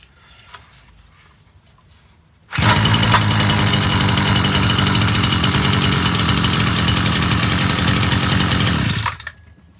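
A small engine, suspected of a faulty kill switch, roars to life indoors with smoke after a moment of quiet, holding a loud, buzzy, steady high-revving drone for several seconds before cutting off abruptly.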